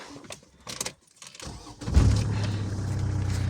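A Hyundai Sonata 2.4 hybrid idles low and steady after a brief rustle and clunk, a soft rumble as the car creeps forward slowly.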